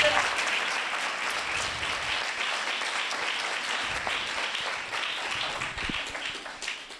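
A congregation claps during a sermon, a sustained, fairly loud crowd of hands beating together in a dense rattle, with faint voices mixed underneath.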